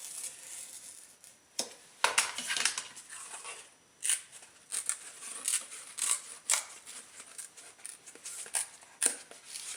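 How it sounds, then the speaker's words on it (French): A blade scoring cardboard partway so it folds without tearing, heard as irregular dry scraping and crunching strokes, close and fairly quiet, in short bursts with pauses between. "faire une coupe juste pour pouvoir plier mon carton, mais sans le défoncer, sans le déchirer"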